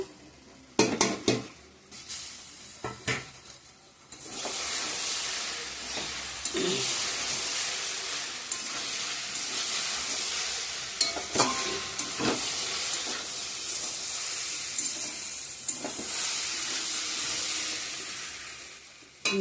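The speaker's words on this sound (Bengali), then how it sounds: "ভালোভাবে কষানো হয়ে গেছে মশলার সঙ্গে, ডিমটা দিয়ে দিব" An egg goes into well-fried spice masala for a home-style tarka, giving a steady close sizzle with metal utensil clanks and scrapes, plus a few sharper knocks at the start.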